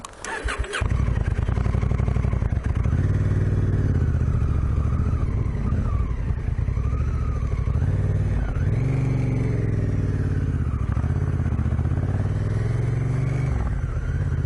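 A Honda Africa Twin motorcycle rides along Australian bush roads, its engine droning steadily and loud close by as it holds a constant pace, with pitch rising and falling through shifts and throttle changes.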